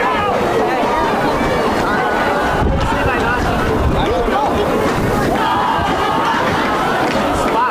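Clark/Willow Lake fans roar and cheer after a Cyclones touchdown at a high school football state quarterfinal, a loud, sustained crowd din of shouts and babble throughout.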